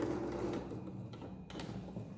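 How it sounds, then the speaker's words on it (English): A sewing machine runs a line of stitching through thick blanket fabric, a steady close mechanical whir with a short pause and restart partway through, carrying on alone without voices. "stitch all the way down to the other side"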